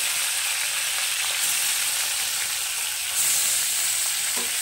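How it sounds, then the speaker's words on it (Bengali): Fish fries in hot mustard oil for a South Indian style fish curry, a loud, dense, continuous sizzling hiss heard up close with no one talking. "তেল গরম হয়ে গেছে, এখন আমি মাছগুলোকে একটু ভেজে নেব"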